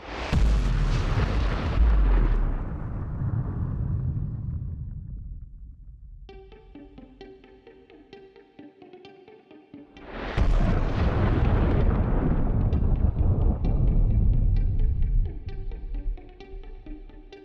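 An atomic bomb test explosion: a huge, deep roaring blast that slowly rumbles away, a stretch of quiet tonal music, then a second massive roar that swells back in loud and sustained.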